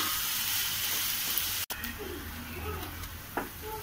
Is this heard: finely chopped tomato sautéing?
yes